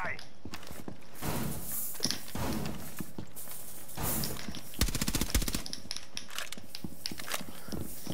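Gunfire from a weapon in the video game Rainbow Six Siege comes in sharp, loud bursts and rapid volleys scattered through the clip, with brief quieter gaps and background game noise.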